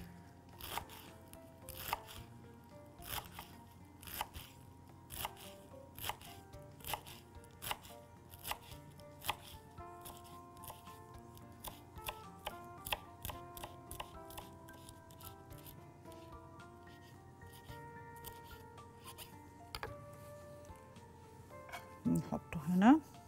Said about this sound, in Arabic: هنقطع الجرجير وهنقطعه صغير مش كبير